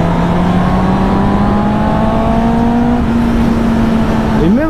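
A four-cylinder motorcycle engine revs upward as the throttle is opened, a loud steadily rising whine heard up close, ending with a quick sharper climb.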